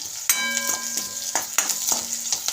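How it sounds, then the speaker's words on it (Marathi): Green chilies roasting on a griddle pan with lemon, giving a steady close sizzle broken by several sharp clinks and scrapes of a spatula turning them, with no talk. "छान अशी मिरची भाजून घेऊया"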